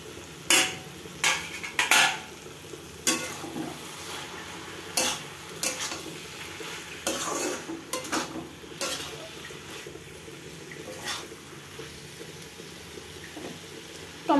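Vegetables and tomatoes frying in a pan with ground coriander and cumin are stirred with a utensil, sharp scraping clinks against the pan recurring irregularly over a low steady sizzle.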